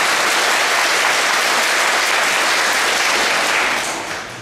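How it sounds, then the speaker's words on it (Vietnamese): Sustained audience applause at a Buddhist Dharma gathering, dense and steady clapping from a large crowd throughout, tapering slightly at the very end. "Xin đại chúng cho một tràng pháo tay thật lớn."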